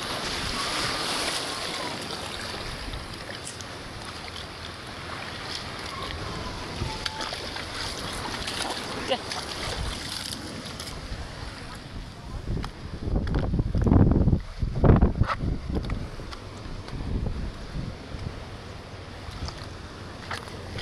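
Big sea waves churn and wind buffets the microphone aboard a small boat in rough weather, a steady roar that swells louder in the middle, with voices heard now and then.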